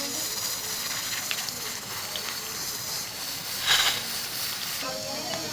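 Chicken shami kababs fry in hot oil with a steady, moderate hiss and sizzle, a brief louder spatter burst midway, and a faint clink near the end.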